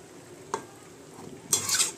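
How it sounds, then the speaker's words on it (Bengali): Soft sizzling in a pan with a clink of a utensil, then a louder rustling scrape as Malabar spinach is turned over in oil, close by. "আমি একটুখানি ভালো করে এটা ওপর নিচ করে দিচ্ছি"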